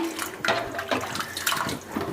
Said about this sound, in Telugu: ఇంకా కొన్ని నీళ్ళు అయితే పోసుకుని